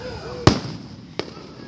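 July 4th fireworks bursting outdoors, two sharp booms about a second apart, the first louder and closer, with whistling crackle and a person talking nearby.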